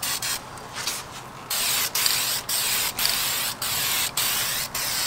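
Clear coat sprayed from an aerosol can onto Mitsubishi Evo 8 brake calipers, a series of close, loud hissing bursts of about half a second each with short gaps, after a longer opening spray.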